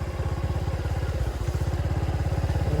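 A motorcycle engine runs steadily close by, a loud, even throbbing pulse of firing strokes that continues without a break through the whole stretch, with no voices over it.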